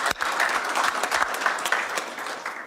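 Audience applause at an event announcing investment at Hamilton's airport, a steady burst of clapping from a crowd lasting throughout, fairly close and uninterrupted by talk.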